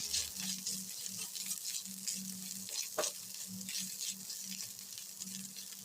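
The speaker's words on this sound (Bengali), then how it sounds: "আদা রসুন বাটাকেও দু তিন মিনিট পেঁয়াজের সাথে নেড়ে চেড়ে নিতে হবে" Ginger-garlic paste being stir-fried with onions in hot oil for aloo chop filling, a steady close sizzle with repeated soft scraping stirs and one sharper clink of the spatula, no voices.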